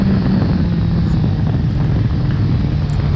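Suzuki SRAD 1000 R sportbike engine running hard, a steady loud drone with a droning low hum and heavy wind rush over it, as if heard while riding at speed.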